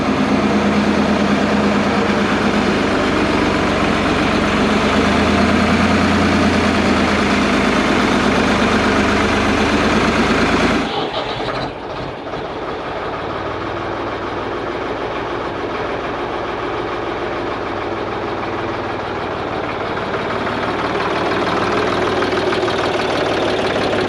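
A Ford 3000 tractor engine runs steadily and loudly nearby, a dense continuous rumble that drops in level about halfway through, then keeps running evenly to the end with no talking.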